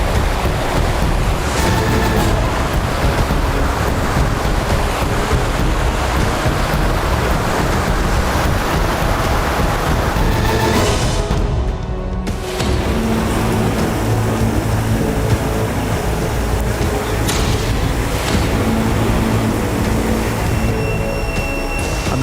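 A wide river rushing fast and swollen after the rains beside dense forest, a loud, continuous broadband roar of churning water with no let-up for the whole stretch.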